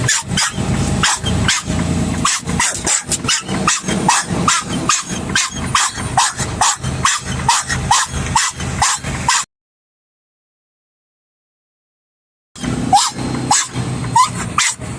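A dog barks inside a car on a drive to Phoenix, Arizona, with loud, rapid, continuous barking close by, broken by a few seconds of silence before it resumes.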